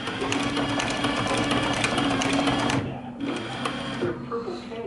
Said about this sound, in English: let me just show you how this thing walks through a stitch